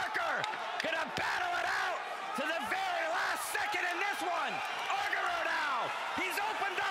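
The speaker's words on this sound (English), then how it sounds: "Listen to this crowd." Crowd at a kickboxing fight in Cyprus roars and cheers steadily, with shouted whoops rising over the noise and a commentator talking on top.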